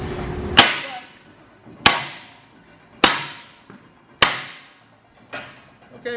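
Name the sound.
breaking a weld loose on a lock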